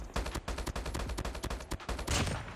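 Rapid automatic gunfire from a gold HBRa3 rifle in Call of Duty Mobile, a fast steady string of loud close shots ending in a denser, heavier burst.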